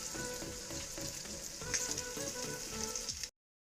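Boneless chicken keema frying in oil in a kadai over a medium flame, giving a steady dense sizzle with faint stirring scrapes that cuts off abruptly.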